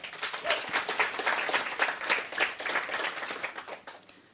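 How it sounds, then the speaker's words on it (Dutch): An audience at a live Flemish queer cinema stage show breaks into dense, sustained applause that swells quickly and stays steady before tapering off at the end, with no talking over it. "Mag ik een applaus?"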